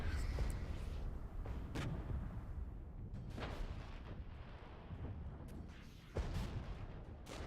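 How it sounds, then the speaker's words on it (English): Artillery barrage in the tactical war game Regiments, with repeated heavy booms landing every second or two over a constant low rumble, distant-to-mid range, with someone talking throughout. "we'll just call a regular artillery barrage"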